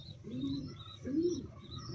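Domestic racing pigeons kept by a Filipino fancier coo in two low, rolling phrases, close and fairly soft, over faint background hiss with a few higher chirps; no one speaks.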